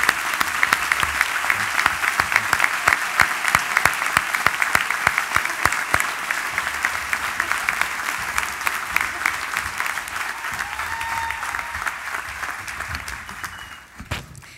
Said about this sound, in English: And for the rest of us, let's give them a round of applause.